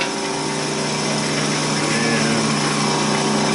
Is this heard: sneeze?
no